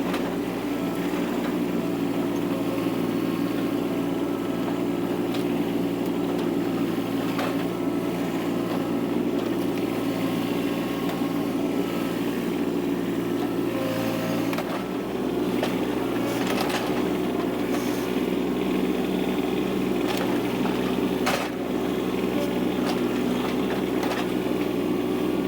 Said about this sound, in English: But I think now we gotta go get the tractor.